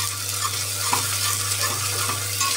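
Onions browned to golden and ginger-garlic paste sizzle steadily in a hot pan, with a constant frying hiss and a few soft stirring scrapes, close and unbroken by speech.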